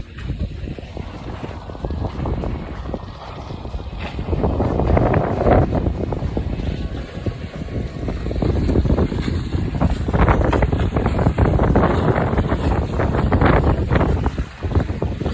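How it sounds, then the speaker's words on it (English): A sailboat under way in wind on Lake Michigan off the Montrose coast, with loud, constant wind buffeting the microphone over rushing water and hull noise that swells and eases. "So we're sailing up and down the Montrose coast to Northwestern University and back."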